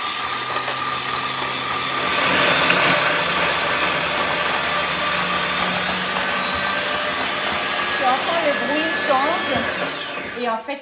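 A kitchen food processor runs at speed 10 while blending ingredients for carrot cake, giving a loud, steady motor whir that holds almost the whole clip and shifts pitch slightly near the end.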